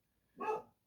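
A single short dog bark rings out close by and fairly loud, standing alone with no talk around it.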